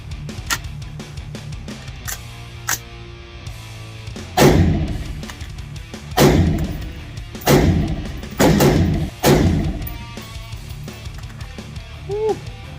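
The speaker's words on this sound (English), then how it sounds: "shooting my AR today" An AR rifle fires at the range in five loud, sharp cracks a second or two apart, each with a brief booming tail, mixed with lighter clicks and handling sounds and a short voice near the end.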